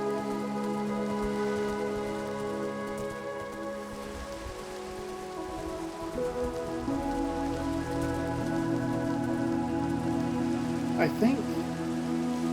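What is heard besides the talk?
rain in the video game Minecraft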